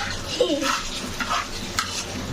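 Potatoes frying in hot oil until golden brown, a steady sizzle with occasional stirring and utensil scrapes against the pan, close and moderately loud.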